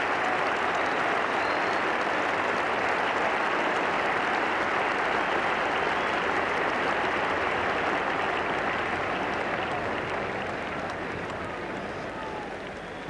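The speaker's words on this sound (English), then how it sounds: "the whole England team, in unison with the crowd, applauding him on his way through into this Lord's Pavilion." A packed Lord's cricket crowd applauds during the 1985 England v Australia Ashes Test, a continuous dense wash of clapping that holds steady for over twelve seconds and eases slightly toward the end.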